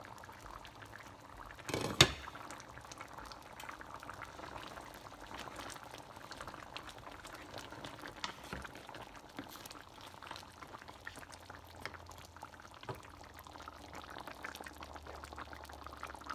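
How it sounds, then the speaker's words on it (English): Mutton gravy bubbles and simmers quietly in a pot, a steady soft gurgling with occasional small pops and a light clink. "The mutton gravy is boiling now."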